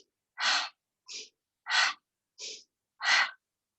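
Five audible breaths during a yoga exercise in a hip-opening class, alternating longer exhales with shorter inhales at a slow, steady rhythm, close and clear with no talking.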